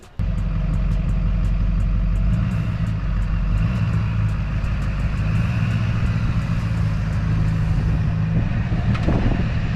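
A pickup truck engine runs steadily and loud up close as it pulls out from under a gooseneck trailer, a continuous low rumble with small clicks and a rising swell at the end.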